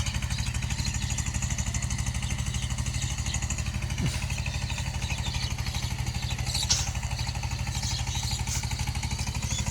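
A Sifang 14 hp power tiller with an eighteen-blade rotor ploughs a field in second gear, its single-cylinder engine chugging in a steady, rapid rhythm, loud and close throughout.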